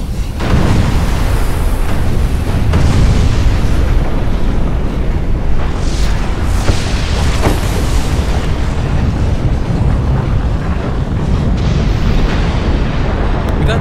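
A layered sound-design track of a volcano eruption rolls on with dense, loud rumbling booms and crackling bursts, a continuous heavy roar without speech.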